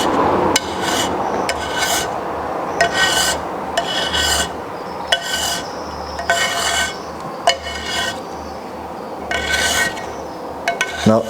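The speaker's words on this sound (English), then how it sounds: "We scrape off this white substance." Dried bee venom being scraped off a collector plate, a series of sharp, close rasping strokes in an uneven rhythm, about a dozen scrapes separated by short pauses.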